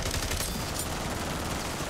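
A turret fires nonstop in Modern Warfare Zombies: a dense, loud, rapid stream of gunfire with no pauses across the whole short stretch.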